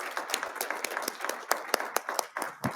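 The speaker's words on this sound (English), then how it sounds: "let's give another round of applause to both the speakers" Audience at an academic symposium claps for the speakers, a loose round of individually distinct hand claps at moderate distance.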